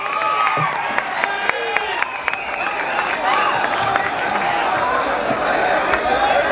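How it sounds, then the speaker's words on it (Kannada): Audience applause and cheering greet comedian Udaal Pavvay as he takes the stage at a comedy show in Jamkhandi, Karnataka, a dense, steady crowd roar with scattered sharp claps running throughout. "ಪ್ರೀತಿಯ ಅನ್ಬಾಕ್ಸಿಂಗ್ ಹೀರೋ ಉಡಾಳ್ ಪವ್ಯ ಅವ್ರನ್ನ ಜೋರಾಗಿ ಚಪ್ಪಾಳೆ ಮುಖಾಂತರ ನಾವು ವೇದಿಕೆ ಮೇಲೆ ಕರೆಯೋಣ್ರಿ"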